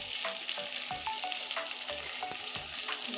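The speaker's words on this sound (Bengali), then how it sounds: "আমি এখন সুন্দর করে ভেজে নেব" Oil sizzles and crackles in a pan while soybean and potato curry cooks, with a steady close hiss and several sharp spoon-scraping clicks from stirring, and no voices.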